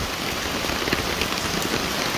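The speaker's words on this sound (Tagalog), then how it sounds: "Ang lakas po ng ulan, no?" Heavy rain pours down steadily, a dense close hiss of drops drumming on a surface with no break in intensity.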